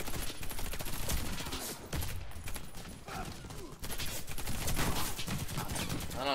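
Rapid automatic gunfire in the video game Warface, dense bursts of shots crackling almost continuously at moderate level with brief pauses.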